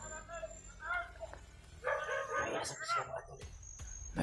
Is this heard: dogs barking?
yes